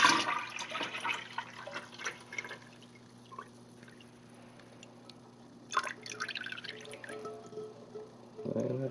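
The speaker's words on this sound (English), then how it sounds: "Now I'm going to add this warm honey water mixture to this cold water." Warm honey-water mixture for mead being poured into cold water in a gallon jug, a splashy glugging pour at the start, quieter dribbles in between, and another pour near the end.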